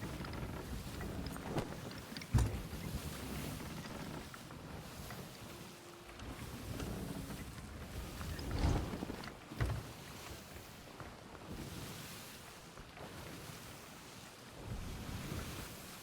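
Ocean waves wash against a sailing ship in a video game, a steady broadband surge of water and wind with a few louder splashes rising and falling throughout, no voices.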